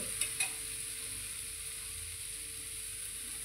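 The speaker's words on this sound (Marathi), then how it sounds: "आता ह्याच्यामध्ये मी आता पनीर टाकते." Paneer tipped into a frying pan for a village-style paneer bhurji and stirred, with a couple of brief soft clinks near the start over a steady low sizzle.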